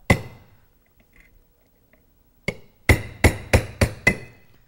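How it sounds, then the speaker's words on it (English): Sharp metallic hammer taps on a punch driving out corroded pins from Rolls-Royce Silver rear brake parts, one single strike then a quick rhythmic series of five, ringing briefly against metal in a quiet room. "Take a punch and a hammer."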